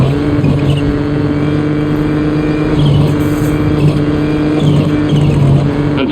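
A rally car engine drones steadily at high revs in the WRC Generations racing game, holding a continuous loud tone with slight rises and dips as the car pushes through corners, heard alone without talk.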